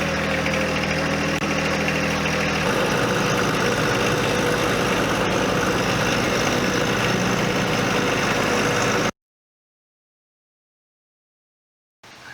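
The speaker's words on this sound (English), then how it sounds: "I just came in with the tractor," A tractor fitted with a belly mower idles at an old Victorian property, a steady low rumbling drone with a slight shift in tone partway through, then cuts to silence near the end.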